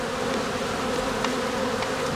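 Honeybees swarm at a hive entrance in autumn while guard bees fight off robbing bees, a dense, steady buzzing drone that holds close and loud throughout with no voices.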